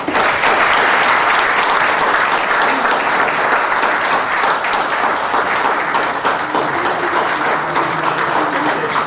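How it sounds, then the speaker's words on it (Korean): Loud, dense audience applause at an honorary doctorate conferral ceremony for a business executive, continuous clapping from a large crowd holding steady throughout. "다시 한번 박수로 축하해 주십니다"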